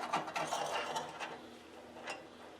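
Square steel tube piece sliding into place against another tube section, quiet scraping and a few light metallic clicks and knocks, close and brief with no voices.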